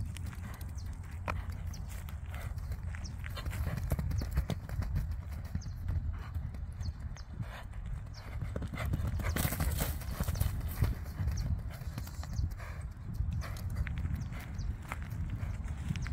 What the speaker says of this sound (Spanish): Un caballo que ahí lo vieron, que si lo anda tranquilo, anda tranquilo.